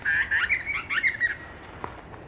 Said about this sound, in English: Can you hear birdies?